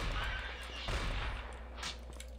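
Weapon fire in Blood II: The Chosen: a few close, sharp bursts of shots over a low rumbling game background, with a bright blast near the middle and another toward the end.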